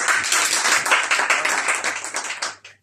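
Audience members at a business presentation clap together in a lively burst, loud and close, tapering off at the end.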